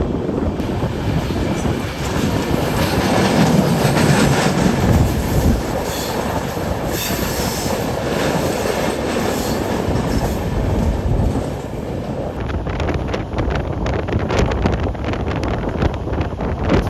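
Korba Yesvanthpur Wainganga Superfast Express running, a steady loud roar of wheels on rails with rhythmic clatter and heavy wind rush, continuous and close, with no talking.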